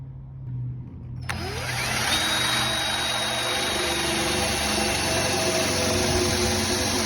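A hole is drilled with a Forstner bit to pass a length of PVC pipe through, part of a rust-removal setup for a gun barrel; the drill spins up sharply, then grinds steadily and loudly through the cut without pause.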